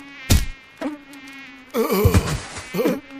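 A mosquito's loud, close buzzing whine wavers in pitch and swells in several bursts over a few seconds.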